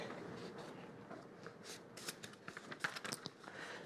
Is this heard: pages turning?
yes